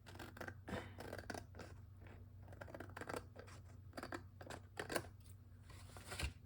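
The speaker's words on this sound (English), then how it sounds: "I've got it longer than I need it, so I'm going to take and trim it." Scissors trimming excess navy material, heard as a quiet series of close snips and papery rustles at an irregular pace, with no talking.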